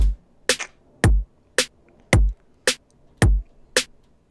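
A simple steady drum groove: booming kicks alternating with snappy snares, light hi-hat ticks between, looping at an even tempo.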